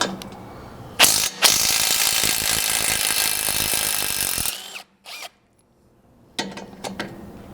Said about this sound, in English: For this, I'm just using a 17mm socket. This is held in with 6 bolts.